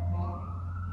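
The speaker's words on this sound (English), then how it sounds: "It was an ambulance." An ambulance siren passes outside, its sustained wailing tones sliding slowly in pitch, heard at moderate distance and steady throughout the short stretch without speech.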